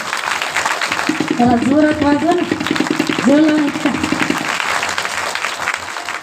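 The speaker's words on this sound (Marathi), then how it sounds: "सर्वांसाठीच एकदा जोरदार टाळ्या झाल्या पाहिजे, जरा जोरात वाजवा ना।" An audience at a Shiva Purana katha gathering claps in a dense, steady round of applause throughout, while someone speaks briefly over it near the microphone.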